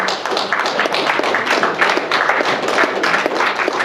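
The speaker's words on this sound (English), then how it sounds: "Please give it a round of applause to Kareem, Troy's cousin." An audience at a university hip hop panel discussion at UMass Lowell gives sustained applause, a dense, even patter of many hands clapping close by with no break.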